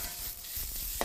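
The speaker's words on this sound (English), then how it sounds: "Use a spatula to stir fry." Spatula stir-frying in a wok for Sichuan mapo tofu, a steady scraping, sizzling clatter close by with a sharper knock at the end, no talk.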